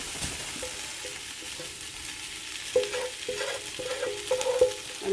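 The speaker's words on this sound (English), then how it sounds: "now I'm going to take my veggies, and we're going to put those into a big pot" Vegetables for a traditional Irish beef stew tumble into a big pot and are stirred, giving a steady low sizzle and scraping with several sharper clanks of a utensil against the pot in the second half.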